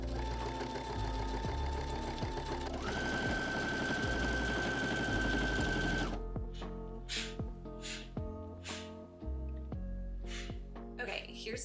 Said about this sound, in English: I'm gonna go ahead and serge all these pieces separately